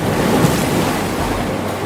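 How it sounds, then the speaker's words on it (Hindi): Floodwater rushes into a village in a cartoon, a loud continuous roar of surging water and wind-like noise with no voices. "घुटने तक पानी भर गया गांव में और पानी बढ़ता ही जा रहा है"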